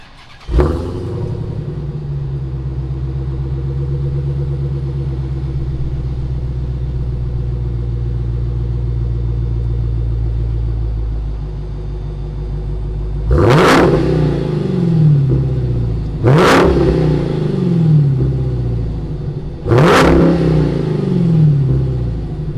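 A 2019 Dodge Challenger Hellcat Redeye idles with a deep, loud, steady rumble for several seconds, then its supercharged engine is blipped in three sharp revs spaced a few seconds apart, with nobody speaking.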